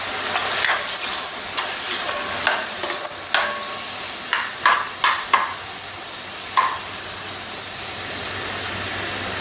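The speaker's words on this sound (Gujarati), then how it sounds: "તો હવે આપણે તેમાં કેપ્સિકમ નાખી દઈશું, ટમેટાં પણ નાખી દઈશું, મિક્સ કરી લઈશું." Capsicum and tomatoes being stirred into sizzling fried onion and garlic in a pan for paneer ghotala, a steady loud frying hiss with repeated sharp scraping and clinking of the spoon, no talking.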